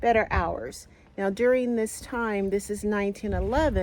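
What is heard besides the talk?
None of the usual background noises is heard.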